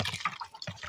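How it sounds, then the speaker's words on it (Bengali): Raw mutton pieces being rinsed by hand in water at a rural home kitchen, a short burst of splashing and sloshing close up with no talk. "মটনটা ভালোভাবে ধুয়ে নেব।"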